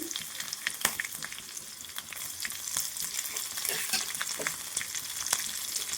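Mustard seeds, crushed garlic, chilli and a little cumin fry in hot oil for an Indian desi soup, giving a steady close crackling sizzle with scattered pops and spatters throughout, no voices.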